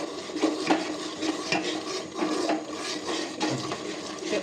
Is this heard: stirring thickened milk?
yes